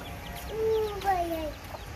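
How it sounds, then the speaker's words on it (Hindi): Chickens cluck nearby and small chicks cheep from a rooftop in a neighborhood, giving a few short, clear calls over a steady outdoor background. "वो चूजा बैठा हुआ, तो उसको पता नहीं क्या बोल रहा है।"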